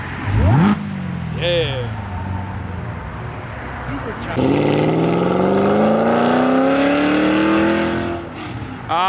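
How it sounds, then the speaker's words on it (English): A Whipple supercharged Ford GT accelerates hard away from a car show, its engine note climbing in loud rising sweeps with supercharger whine, a brief rev early on and then a long sustained pull, while a voice briefly speaks. "Whipple supercharged Ford GT."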